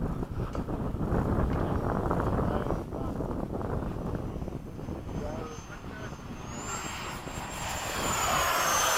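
An F-4 jet passes down the runway with a continuous engine roar mixed with wind noise, and a thin rising whine comes in near the end.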